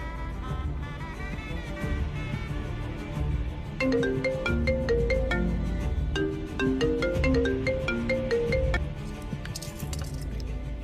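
A phone plays a melodic ringtone for an incoming video call, a run of bright repeating notes through the middle of the clip over a low background hum.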